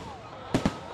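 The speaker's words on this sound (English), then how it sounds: "As fireworks exploded in the sky" Two sharp fireworks bursts explode in the sky at a July 4th celebration, booming close together and loud over a low, steady background hum.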